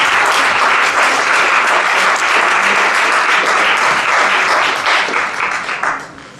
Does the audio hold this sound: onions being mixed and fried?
no